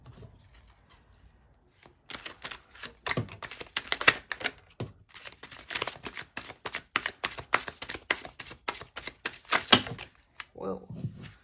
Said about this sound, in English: It's gonna shuffle one more time.